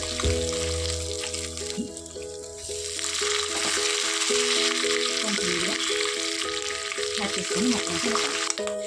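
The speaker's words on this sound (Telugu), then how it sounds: "ఇది పోపు చుట్టుపక్కల ఆడినప్పుడు మనం దాంట్లో కరివేపాకు యాడ్ చేస్తున్నాం" Loud, steady sizzling and crackling of curry leaves dropped into hot tempering oil, close by, with occasional stirring scrapes and a humming tone underneath.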